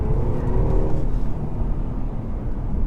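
A 2014 Mercedes E400 coupe with rear-wheel drive accelerates hard, its engine giving a loud, steady, close roar that holds without a break for the whole stretch.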